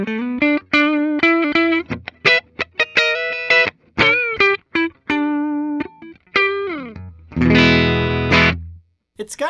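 A 2012 Gibson Nighthawk electric guitar is played through its neck pickup with a distorted amp tone: short picked notes and phrases with gaps between them, ending in a loud, ringing strummed chord that cuts off.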